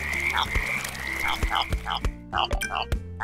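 A frog croaks repeatedly in the video game Pureya, about a dozen short rhythmic croaks over a steady looping game music bed, close and clear with no talking.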